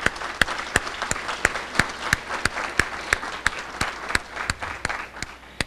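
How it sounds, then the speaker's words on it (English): Audience applause at a high school ribbon cutting ceremony, a steady wash of many hands clapping with sharp individual claps standing out, sustained and fairly close throughout. "I want to give them another very special round of applause."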